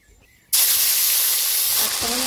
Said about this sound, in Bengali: পাতা গরম মশলা ফোড়ন দিয়ে দিচ্ছি